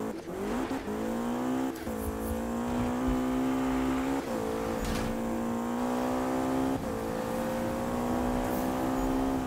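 A McLaren racing in Need for Speed, its engine a steady, loud, high-pitched whine with repeated gear-shift dips and climbs as it accelerates, holding a strong tone throughout.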